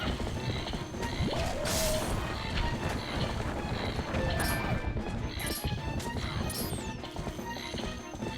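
Horse galloping in The Legend of Zelda: Twilight Princess while bucking and running away, rapid hoofbeats and whinnies mixed with crashes, impacts and other game sound effects, dense and loud throughout.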